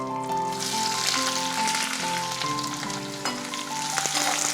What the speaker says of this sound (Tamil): வாணலியில் எண்ணெய் காஞ்சதும் சோம்பு, காஞ்ச மிளகா, கருவேப்பிலை சேர்த்து தாளிச்சிடணும்